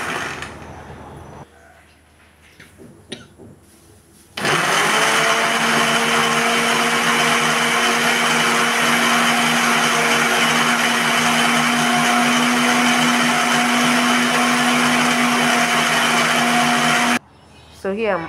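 A kitchen blender runs loud and steady for about thirteen seconds, whirring as it purées spicy shombo peppers for a cucumber stew, after a quieter stretch of handling noises; it cuts off abruptly near the end.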